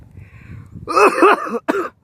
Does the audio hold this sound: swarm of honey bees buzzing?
no